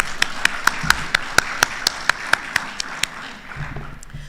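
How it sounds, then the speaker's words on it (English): A single person claps a steady run of about a dozen sharp, evenly spaced claps at a Barbados national youth consultation event, with faint room noise underneath as the claps trail off. "Yes, claps."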